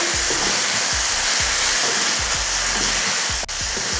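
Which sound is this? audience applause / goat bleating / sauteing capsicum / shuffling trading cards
sauteing capsicum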